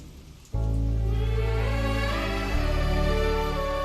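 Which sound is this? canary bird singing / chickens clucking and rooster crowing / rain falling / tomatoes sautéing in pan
rain falling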